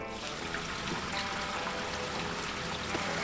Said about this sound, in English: So then you flush it out with your gray tank.